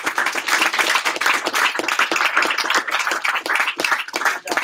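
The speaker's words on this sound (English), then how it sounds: "Can we give my staff a big round of applause?" An audience applauds the staff at a themed gathering, a loud, close round of vigorous clapping with distinct sharp claps and slight surges, sustained across the whole stretch.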